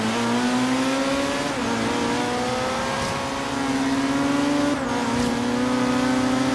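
Engine of a car in Forza Horizon 3 revving hard through a sustained acceleration, pitch climbing then dropping at each of two gear shifts, loud and continuous with faint tire noise.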